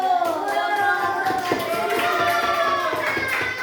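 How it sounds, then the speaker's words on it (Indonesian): Classroom applause for a students' group presentation on halal and haram food, a steady patter of hand claps filling the room with some overlapping voices. "Kasih aplaus dulu"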